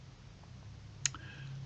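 A single faint, sharp mouse click lands on a browser bookmark star against a quiet background hum.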